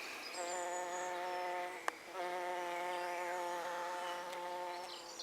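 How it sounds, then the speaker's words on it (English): A leafcutter bee buzzes close by in a garden, a steady harmonic drone that breaks off briefly midway after a click, then resumes and holds alone with no talking. "Now that looks like a leaf cutter bee to me."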